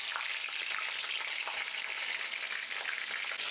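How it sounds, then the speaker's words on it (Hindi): Eggplant frying in oil on a medium flame gives a steady, close hiss of sizzling with faint crackles, constant and unbroken for a few seconds with no talk. "बैंगन को हम बीच बीच में पलटते हुए फ्राई करेंगे।"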